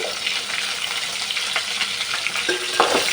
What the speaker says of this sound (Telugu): పచ్చిమిర్చి ఆనియన్స్ వేసుకొని ఓసారి కలుపుకుందాము.